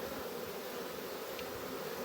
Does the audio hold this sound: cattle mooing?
no